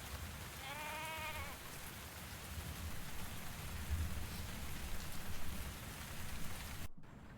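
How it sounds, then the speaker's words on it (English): Steady rain falls in the video game Tavern Talk, a continuous soft hiss with a dense low rumble that holds for several seconds, a short bleat-like warble near the start, then a brief dropout near the end. "Night at the library. Here comes the rain."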